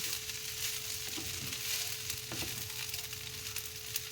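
Vegetables frying in hot oil in a pan, a steady bright sizzle with a few soft stirring knocks, close and continuous.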